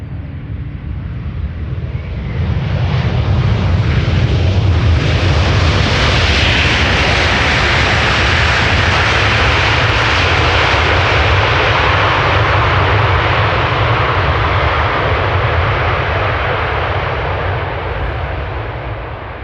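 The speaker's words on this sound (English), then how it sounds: "those Delta pilots often deliver with their A330s and reverse thrust" A Delta Airbus A330 landing at Amsterdam Schiphol, a loud, close roar of reverse thrust that swells after a couple of seconds and holds as a broad, steady rush of jet noise.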